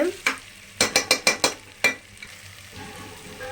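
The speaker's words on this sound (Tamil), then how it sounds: "இன்னும் கொஞ்சம் லைட்டாக வதங்கட்டும் அந்த இஞ்சி பூண்டு பேஸ்டோட பச்சை வாடகை போகட்டும் ஸோ வதங்கட்டும் அப்படியே" Ginger-garlic paste and green chillies sauté in a pan, with a sequence of sharp, rhythmic spoon scrapes and knocks, about eight in quick succession, over a soft, steady sizzle, close up, with no one talking.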